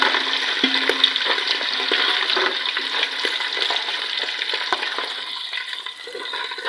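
Chicken for Afghani chicken macaroni fries in hot oil with garlic, filling the clip with a steady, close, bright sizzle that holds for nearly seven seconds, with a few faint clinks and no talk.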